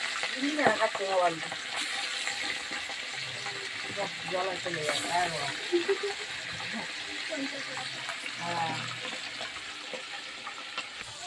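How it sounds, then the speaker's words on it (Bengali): Fish pieces frying in hot oil in a kadai, a steady close hiss and sizzle with spattering crackles, while someone talks over the cooking throughout. "কড়ার মধ্যে মাছ দিয়ে দিচ্ছে। আর মাছের কি তেল ছিটকাচ্ছে"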